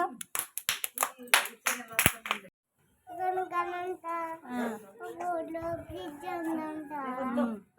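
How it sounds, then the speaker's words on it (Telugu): Children at an anganwadi preschool clap in a quick burst of sharp, scattered claps for about two seconds. After a short silence, young voices follow in a sing-song chorus. "క్లాప్స్ కొట్టండి అందరూ"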